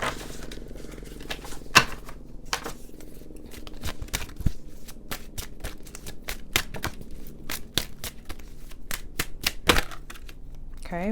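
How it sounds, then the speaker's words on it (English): Tarot cards being shuffled and pulled from a deck, a string of sharp, crisp card snaps and slaps at irregular intervals over a low steady background, close up and moderately loud. "I'm just going to pull 5 cards."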